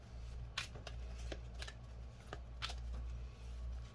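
Tarot cards shuffled close up: a series of crisp riffling bursts and slaps, about eight in an uneven rhythm, fairly quiet, with no talking.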